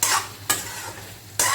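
Chicken fries with masala in a hot pan, sizzling steadily at close range while a utensil sweeps through it in three sharp stirring strokes.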